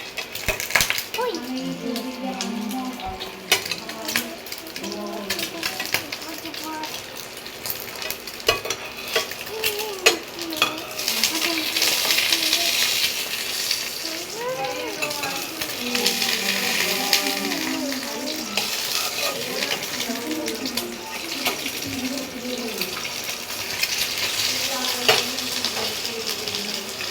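An egg fries with onion in a pan, giving off a steady hissing sizzle with crackling spatters and some stirring, while people talk over it.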